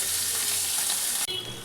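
Roe-filled hilsa fish fries in hot oil with a loud, close, continuous sizzle that cuts off abruptly into a quieter hiss near the end, with no talking.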